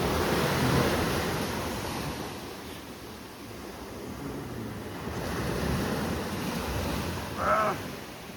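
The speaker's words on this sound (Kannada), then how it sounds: "ಲಿಟ್ರಲಿ ಇಲ್ಲಿವರೆಗೂ ನೀರು ಹೊಡಿತಿದೆ." Sea waves break on the shore at night on the Kerala coast near Kannur, a steady surf wash swelling and easing in gentle surges with some wind noise and no talking.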